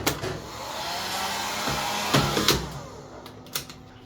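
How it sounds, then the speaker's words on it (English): A wall-mounted AEG hair dryer runs with a steady broadband airflow hiss throughout, broken by a few sharp clicks and knocks near the end, with no talking. "So if the hair dryer is not working, check the switch."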